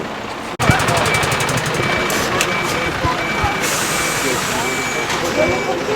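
A Polish truck's audible warning signal repeats in steady beeps over a loud idling engine, with air-brake hiss and street noise, heard close and continuous.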